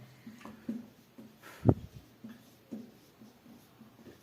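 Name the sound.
writing with a red pen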